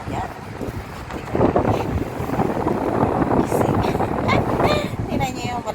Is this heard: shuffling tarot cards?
no